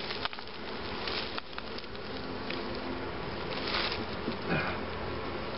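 Honeybees buzz in an open hive during a spring inspection, a dense steady drone of many wings close by with faint rustling, heard alone without talk.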